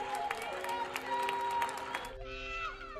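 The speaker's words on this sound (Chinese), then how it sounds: "这位大叔吃饭吃到一半也跑出来给医护人员鼓掌" Evening street applause and cheering for medical workers during lockdown in Belgium, with scattered claps and shouts from residents heard at a distance, then a louder nearby voice-like sound toward the end.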